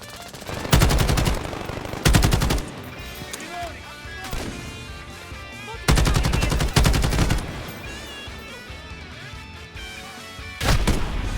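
AUG rifle gunfire in Call of Duty Modern Warfare 2019, loud bursts of automatic fire in several spaced volleys, with game ambience and effects between them.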